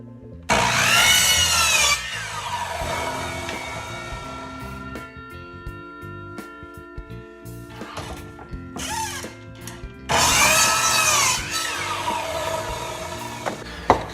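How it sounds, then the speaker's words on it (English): A miter saw cuts wood for queen mating nucs in two loud, close bursts of whining, rasping blade noise, with mechanical clicks and knocks between the cuts. "As long as I cut it on a miter saw, my angles will come straight"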